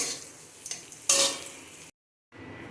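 Bitter gourd pieces fry in hot oil with a close hiss and a brief scrape of stirring, then the sound cuts out to silence before the frying returns faintly.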